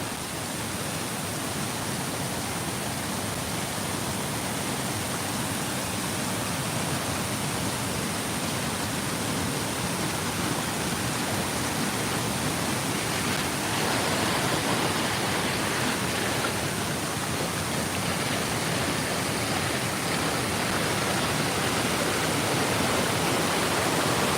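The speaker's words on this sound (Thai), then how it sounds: "นี่คือสถานที่นำตกตาดกวางซี่พี่น้อง" Tat Kwang waterfall rushing, a dense, steady roar of falling water filling the whole span, loud and constant with no break or voices.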